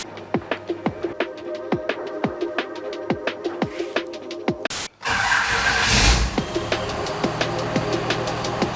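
A boosted Chevy 4x4 with an ultimate build, a rapid string of engine pulses that ends in a sudden break, then a louder surge of revving and road noise as it pulls away, close and alone.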